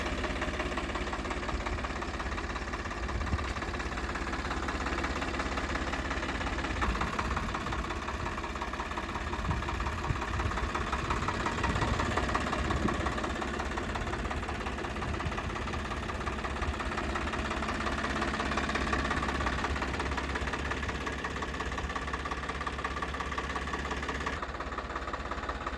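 An air-cooled Eicher 485 tractor engine idles steadily with a continuous low, knocking rumble, close and unchanging throughout.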